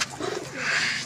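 Pigeons in a cage, Napta pigeons among them, cooing in a short, soft rolling burst close by.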